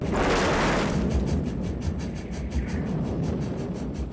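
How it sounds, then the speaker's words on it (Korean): Train crash scene from the film Back to the Future Part III, staged with a miniature set: a loud burst of crashing rumble and debris noise followed by a rhythmic pulsing clatter, dense and continuous without speech. "마티가 다시 현재로 돌아갈 때 기차가 추락하는 장면은"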